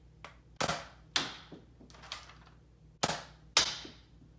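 A modded Nerf Hammershot toy blaster fires darts, six sharp snapping shots at uneven intervals, each with a short springy decay, close and clear with no talk.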